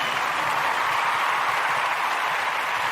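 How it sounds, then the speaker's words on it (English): Audience at a community gathering giving a round of applause for babies, a dense even wash of clapping that holds steady at full strength from start to finish. "Once again, we want to give all of the Ujima born, all of the Ujima babies a round of applause."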